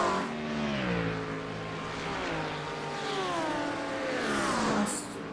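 Porsche GT3 race cars at Road Atlanta in a racing game, engines howling and shifting pitch as they rise and fall through gears, a steady close roar throughout with no talk.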